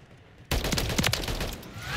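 Rapid automatic fire from the Holger 556 rifle in Call of Duty MW3 erupts after a brief quiet lead-in, a loud close burst of quickly repeated shots that rattles on to the end.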